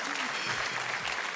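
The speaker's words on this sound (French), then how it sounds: "On vous applaudit." A studio audience on a French TV game show breaks into steady applause, a dense patter of clapping that fills the clip, with a voice briefly audible underneath.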